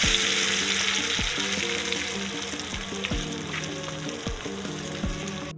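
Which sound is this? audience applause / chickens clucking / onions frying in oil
onions frying in oil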